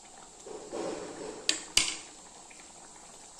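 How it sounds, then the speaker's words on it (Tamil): Egg gravy simmers in a pan with a soft, low bubbling, broken by two sharp metallic clinks close together midway. "இது ஒரு 2 நிமிஷம் கொதிக்கிட்டுங்க"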